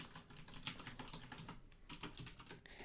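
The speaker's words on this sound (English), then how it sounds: "So let's go ahead and type that in." Fingers tap out a network address on a computer keyboard in quick, uneven bursts of light clicks, close and fairly quiet, with no voices.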